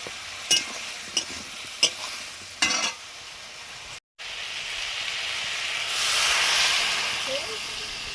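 Vegetables and spices cooking in a pan with a splash of water, a few sharp scraping stirs followed by a brief gap, then a rising steady hiss of steam and sizzle, close by.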